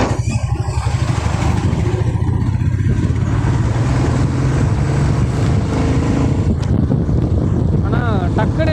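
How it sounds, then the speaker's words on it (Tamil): A Royal Enfield Meteor 350 motorcycle revs up and accelerates hard on an open road, its steady engine drone loud and constant under heavy wind rush, with people talking over it throughout. "ஆனால் டக்குன்னு ரேஸ் பண்ணால் டக்குன்னு வண்டி போகுது"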